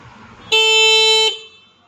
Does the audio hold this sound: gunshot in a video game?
no